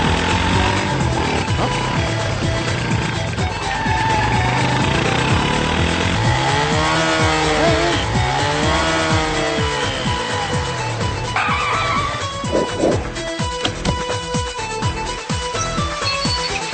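A motorcycle revs and its tires skid during a chase and fight scene in the Telugu film Happy, mixed under a loud, continuous movie soundtrack with swooping engine tones midway.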